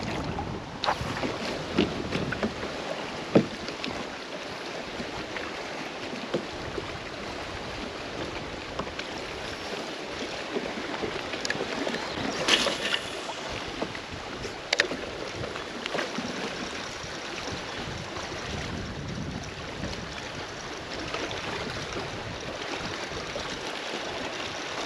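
Wind and choppy water around a Vibe Yellowfin 100 kayak on a windy day, constant gusty rushing with irregular slaps and splashes against the hull, close and steady throughout without talk.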